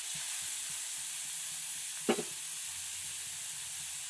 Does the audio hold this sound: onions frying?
yes